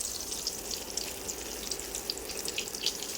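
Eggplant slices frying in hot oil give a steady, close sizzle with fine crackling spits throughout and no talk.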